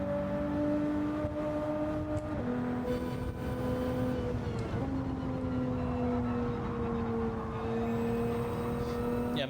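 A race car engine in a racing game is pushed hard at its limit, with a steady loud drone that shifts pitch in stepped gear changes and keeps a continuous close roar throughout.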